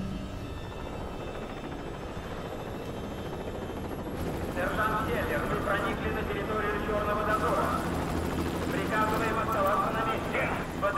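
Helicopter in the video game Prototype 2, a steady rotor drone under game music and effects, swelling louder partway through with layered action sounds.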